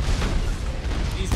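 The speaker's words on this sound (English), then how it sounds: "They're going ham with these launchers." Rocket launcher blasts in Mass Effect combat, a dense low rumbling boom that holds loud and steady for about a second before a sharper burst at the end.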